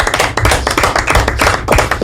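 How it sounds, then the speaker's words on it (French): Loud, close clapping from a studio audience for departing guests on a French youth talk show, a dense steady patter of hands throughout with no talk. "on peut les applaudir bien évidemment"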